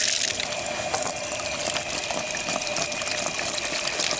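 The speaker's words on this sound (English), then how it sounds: "now I'm going to take this over to a little water spigot and see what it can rinse off" Water from an outdoor spigot gushes and splashes steadily as it rinses a hedgehog's cage, a continuous close, bright spray with small clattering spatters throughout.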